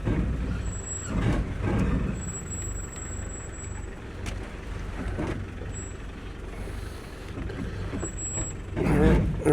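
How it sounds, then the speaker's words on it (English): Off-road vehicle labouring slowly up a steep, rough track, its brakes held on under load; a low, continuous rumble and groan with brief squealing hisses and creaks, fairly close, without talk. "You can hear the brakes struggling as I'm standing on them, trying to pull the weight of the vehicle up here to ease over this."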